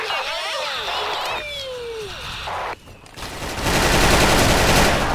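Rapid bursts of video game gunfire crackle and echo, interspersed with synthetic whooshes and sweeping tones, building to a dense, loud barrage at the end.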